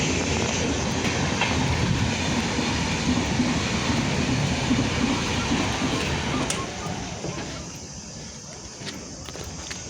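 A train rumbles and clatters steadily while it arrives and passengers board. The noise is loud and continuous before easing off toward the end, with footsteps and faint voices mixed in.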